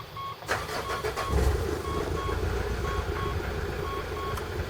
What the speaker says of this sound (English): Now we'll go up and start the car.